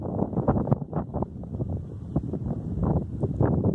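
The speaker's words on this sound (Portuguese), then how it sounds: "o vento aqui é bem forte" Strong wind buffets the microphone on the high Cascavel bridge in Gravatá, Pernambuco, loud irregular gusty rumbles and thumps pounding continuously up close.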